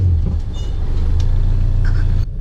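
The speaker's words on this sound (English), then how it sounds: "this car is hella loud" An Acura RSX with an H22 engine gives off a loud, close, low rumble that holds steady, then cuts off abruptly near the end.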